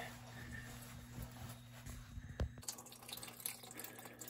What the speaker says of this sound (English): let this water drain into the hot water heater instead of all over me